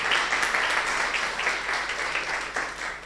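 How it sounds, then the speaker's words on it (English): An audience applauds the panelists at the close of a panel discussion on intellectual property and health, a moderately loud run of clapping that thins slightly toward the end. "Another round of applause to our panelists."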